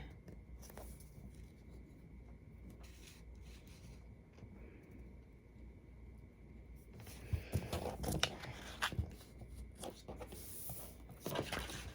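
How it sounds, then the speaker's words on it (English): Scissors cut out a traced paper template for a DIY sublimation thermos project, giving faint, close snips and rustles of handled paper with a few louder crinkles and clicks toward the end. "Take some scissors and cut it out."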